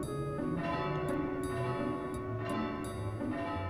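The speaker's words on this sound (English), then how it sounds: "Cool, we rung a bell." A bell rung by pulling a rope in the video game Final Fantasy IX, with repeated resonant tolls at a steady rhythm over a sustained metallic ringing bed.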